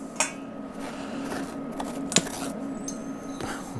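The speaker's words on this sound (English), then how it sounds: "It's not tough at all to just scrape out the guts of the pumpkin." A metal spoon scrapes the stringy guts out of a pumpkin, with short wet scraping strokes and occasional clinks, close and fairly quiet.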